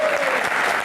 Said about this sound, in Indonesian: Dan kita berikan tepuk tangan paling meriah untuk rekan-rekan mahasiswa yang ada di studio.